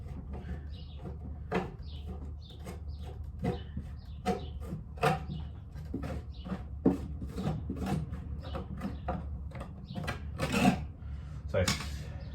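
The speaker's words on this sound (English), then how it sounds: "start with the scraper to get a stab into the grass and stuff easier" A scraper rasps at grass caked inside a lawn mower housing in a series of short, close scraping strokes at an uneven rhythm, with a low background hum.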